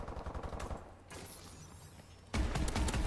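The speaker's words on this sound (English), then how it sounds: "The AMR9. 5 bullet burst SMG, it's different" Gunfire from the AMR9, a five-round burst-fire SMG in the video game Call of Duty: Advanced Warfare, crackles in quick, close bursts. The loudest volley comes near the end, over a busy in-game background.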